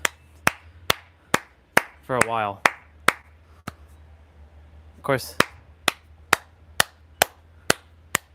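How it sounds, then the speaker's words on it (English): Single person practicing hand clapping, sharp evenly spaced claps in a steady rhythm, close and loud, pausing briefly while someone speaks before resuming. "I wanna practice this clapping thing and see what happens"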